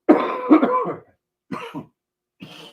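Someone coughs in harsh, close bursts, two strong coughs, then a shorter cough with a throat clear after a pause, and one more weaker cough near the end.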